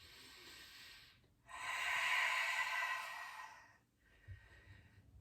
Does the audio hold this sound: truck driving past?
no